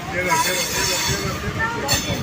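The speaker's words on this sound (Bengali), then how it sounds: "হাওড়া মেদিনীপুর লোকাল এখন ছাড়লো" A Howrah–Medinipur local train departs Howrah, rumbling with a low rolling drone and metallic clinks, while a voice talks over it.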